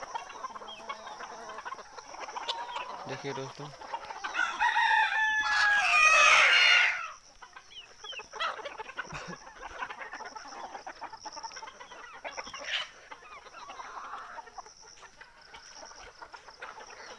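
Six-month-old desi and Sonali chickens cluck and cackle close by, with a rooster crowing loudly in the middle; someone speaks briefly over the flock.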